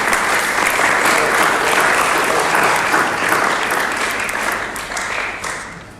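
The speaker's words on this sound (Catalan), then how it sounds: "Un aplaudiment pel Ricardo." A seated audience at a book presentation applauds steadily and densely throughout, close and loud, the clapping slowly thinning toward the end.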